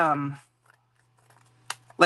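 Scissors make a couple of quick, close snips at the end of a fabric panel while it is trimmed during a sewing session, following a stretch of talk and near silence.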